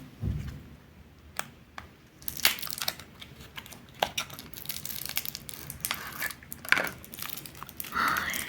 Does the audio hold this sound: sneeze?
no